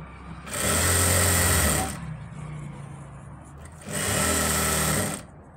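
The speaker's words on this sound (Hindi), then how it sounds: "इस पर सिलाई लगाएंगे" Sewing machine stitching pleats on a salwar, running in two loud, close bursts of about a second and a half each, separated by a quieter pause with faint voice.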